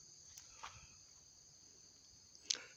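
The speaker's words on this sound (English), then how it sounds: "I'm starting to hear the crickets chirping." Crickets chirp faintly in a quiet park near La Salle, Texas, making a thin, steady high drone with a couple of soft, brief ticks.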